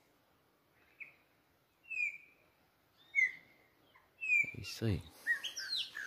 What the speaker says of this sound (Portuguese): Os pássaros pretos estão fazendo a sua algazarra aqui neste pé de imbuzeiro.